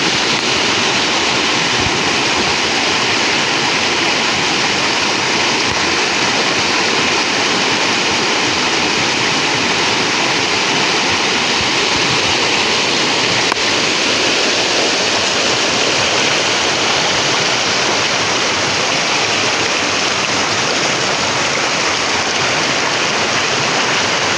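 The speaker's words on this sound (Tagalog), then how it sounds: "ang lakas ng agos ng tubig" A loud, steady rush of fast-flowing river water, continuous and close, with no voices.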